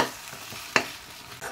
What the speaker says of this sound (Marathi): हलवून घ्यायचं।